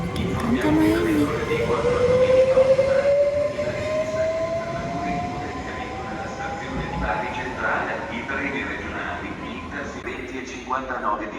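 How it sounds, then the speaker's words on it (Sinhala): A train pulls into a station between Rimini and Pesaro in Italy, its long rising whine and rumbling wheels filling the platform while a public announcement and voices carry over it. "ට්‍රේන් එක ආවා"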